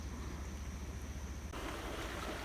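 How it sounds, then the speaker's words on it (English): Creek water rushing across a pasture crossing after heavy rain, a steady broadband roar with a shift in tone partway through as the view changes, mixed with outdoor wind noise and no talk. "I can hear the water coming through"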